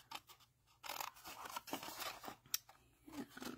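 Scissors snip along the score lines of a paper gift box made from cardstock, a few quiet crunching cuts in short separate strokes, close up with no talking.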